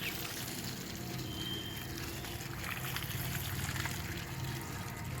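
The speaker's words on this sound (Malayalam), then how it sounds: "ഇനി ഇതിനെ നമുക്ക് നല്ലതുപോലെ ഒന്ന് നനച്ചു കൊടുക്കാം കേട്ടോ." Water poured from a pot soaks the soil around freshly planted Chinese potato (koorka) plants, a steady rushing trickle that runs unbroken throughout with no talking.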